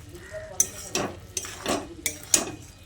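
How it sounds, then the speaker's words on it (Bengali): A metal spoon stirring okra and potato curry in a pan, with four or five distinct scraping and clinking strokes in a steady rhythm, fairly close and alone. "এবার চিনি আর লেবুর রসটা দিয়ে একসঙ্গে ভালো করে মিশিয়ে নিচ্ছি।"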